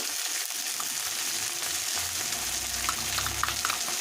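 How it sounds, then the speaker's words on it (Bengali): Ginger-garlic paste and ground spice paste go into hot oil over fried onions, cumin and green chilli, making a soft, steady sizzle and hiss with a few faint pops, fairly quiet and with no voices. "এবার দিয়ে দেবো 1 টেবিল স্পুনের মতন আদা রসুন বাটা, 1 টিস্পুন মশলা বাটা।"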